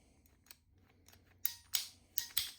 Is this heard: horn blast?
no